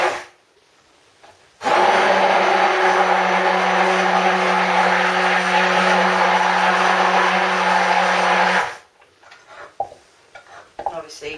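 An electric mixer whisks soap-base oils with kaolin clay before lye water goes in, giving a loud, steady motorized whir with a constant pitch for about seven seconds, with quiet before it and faint handling clatter after it stops.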